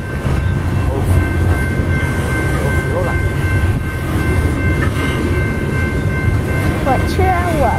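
A BNSF coal train rolls past on the railway, a steady loud rumble of wagons running continuously throughout, with faint high squeals near the end and no distinct horn.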